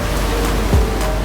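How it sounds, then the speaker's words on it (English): A 2024 Lamborghini Revuelto in Forza Horizon 5 ploughing through a water splash, a loud, dense rush of spray and churning water with a brief low thump midway. "There is a water splash coming up here."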